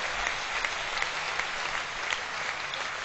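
Audience applause at a Hindi kavi sammelan poetry gathering, a dense, even patter of many hands clapping throughout, moderately loud with no voices over it.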